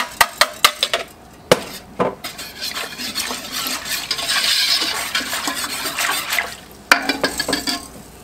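A metal whisk clinks against a pot as dry ingredients are stirred into 10.5 cups of water for apple pie filling, with sharp rapid taps at the start and end around a steadier swishing stir.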